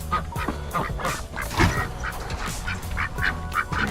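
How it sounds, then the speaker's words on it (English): Two female ducks quack in rapid, overlapping honks close by, in a steady run of brief calls that lasts throughout the stretch, with no voices. "Now we get the 2 female ducks."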